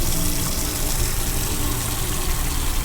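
Water pouring to fill a container in the game Autopsy Simulator, a loud continuous rushing gush that holds steady throughout with no voices.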